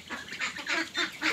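Broiler ducks in a pen with dry bedding quack loudly and close, giving about five rapid, honking calls in quick succession.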